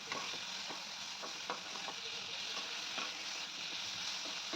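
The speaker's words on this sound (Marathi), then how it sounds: "आता तुम्हाला आवडत असल्यास यामध्ये एक टॅमॅटो कट करून घाला आणि चांगला परतून घ्यायचा" Chopped tomato sautéing in a pan with roasted green chillies and garlic, a steady close sizzle with scattered stirring clicks and scrapes throughout, no voices.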